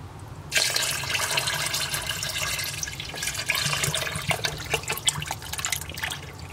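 Liquid bleach is poured steadily into a container of dry live rock being cured for a nano reef tank. The pour is a continuous, close splashing and gurgling stream with scattered drips.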